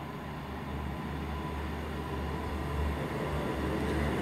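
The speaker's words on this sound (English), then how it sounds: "passing through now is a cross-country service from Morpeth to Plymouth the fourteen fifteen pass" A Cross Country passenger train, unit 221 127, runs past at a steady, fairly quiet rumble with a constant low drone and hiss of wheels on rails, with no speech.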